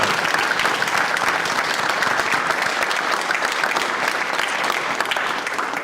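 A room full of people clapping steadily at a Plainville school board meeting, a dense, even wash of applause that holds at one level throughout with no voices over it.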